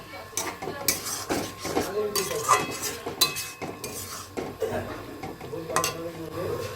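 Curry being sautéed in a pan with tomato paste, ginger and green chilli, heard as repeated scraping and clinking of a metal spatula against the pot over a low sizzle, in an irregular rhythm with no talk.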